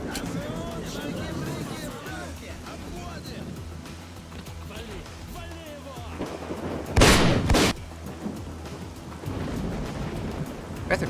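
Shotgun blasts from hip-firing in S.T.A.L.K.E.R. Call of Pripyat, a loud booming burst around the middle over busy game ambience, with someone talking throughout.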